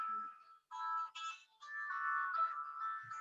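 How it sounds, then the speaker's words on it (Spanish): A phone ringtone plays an electronic melody of bright repeating notes for a few seconds indoors during a hydrotherapy class, with no speech over it. "Eric, teléfono, disculpe."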